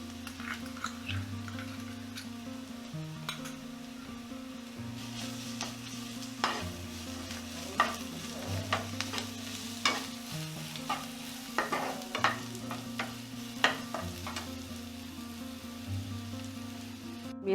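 Garlic paste and browned onions fry together in a pan, a soft steady sizzle punctuated by frequent light scraping and tapping stirs, close but fairly quiet, over a faint low hum.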